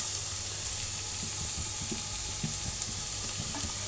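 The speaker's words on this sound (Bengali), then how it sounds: "এটাকে 5 মিনিটের মতো আমি নেড়ে দেবো, নিয়ে নামিয়ে ফেলবো ভেজে নিয়ে।" Mashed cauliflower bharta with Maggi masala and coriander leaves is stirred and fried in a pan, a soft continuous sizzle broken by scattered scraping clicks of the spatula.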